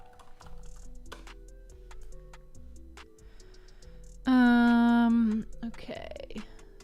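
Computer keyboard keys click in a steady, close patter of light taps, broken midway by a loud, sustained voice-like tone before the tapping resumes.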